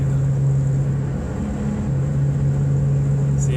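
Engine of a 1993 Subaru Impreza GC heard from inside the cabin, a steady droning hum that shifts pitch briefly as the throttle is lifted, with faint popping off throttle.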